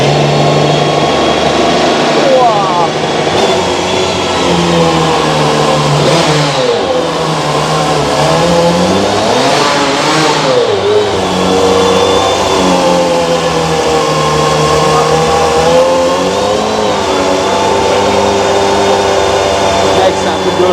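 A Mercedes SLR 722S Roadster engine starts and revs loudly nearby, sustained engine roar rising and falling in pitch over about twenty seconds, with people talking over it.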